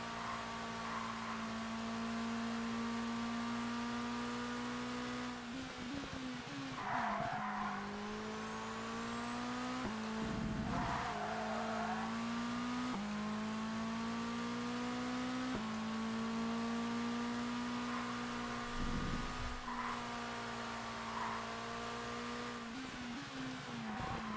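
Supercars racing in ToCA Race Driver 2, a constant loud engine drone with rising and falling gear revs and occasional bursts of tire squeal and skidding through corners.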